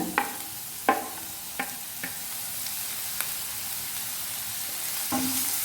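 Capsicum and finely chopped beans fry for Schezwan fried rice over a steady close sizzle, broken by about half a dozen sharp spatula scrapes spaced irregularly, with no talking.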